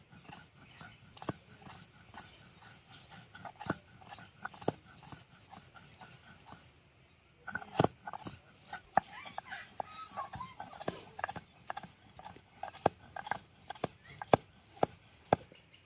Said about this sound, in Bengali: এখন এই যে রসুন চুলা রাখছিলাম, এই রসুন গুলা বাইটে নেব।